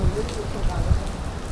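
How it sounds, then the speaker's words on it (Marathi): Steady monsoon rain patters on surfaces during a bike ride, a dense, even hiss close to the microphone with no voices. "पाऊस चालू झालेला आहे"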